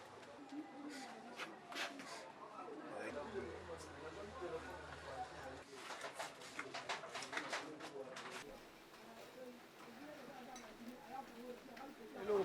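Pigeons or doves cooing outdoors in a Kinshasa neighbourhood, soft repeated calls mixed with scattered bird chirps and a busy background of distant voices and street noise.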